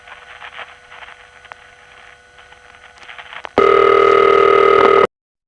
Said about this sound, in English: the ring they use for a sound effect waiting for the recording to get around is this